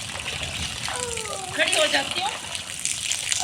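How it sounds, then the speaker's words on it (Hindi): Rain falling with splashing, gushing water during a downpour, a steady wet hiss with a brief louder splash midway, while someone speaks a few words over it. "बारिश अभी बहुत ज़्यादा कम हो गई है"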